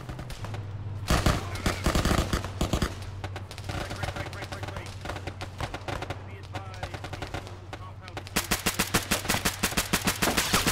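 Dense Arma 3 gunfire in rapid automatic bursts and single shots, loud and sustained throughout, with a sharper, faster volley toward the end and occasional voices over the shooting.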